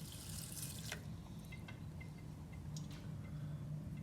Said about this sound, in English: I'm going to need a little bit more water.